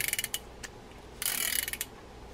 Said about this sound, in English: Get that nice noise that those classic reels make.